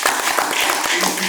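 An audience claps and applauds at a young singles speed dating event, a dense, loud, close patter of many hands with individual claps standing out, sustained throughout.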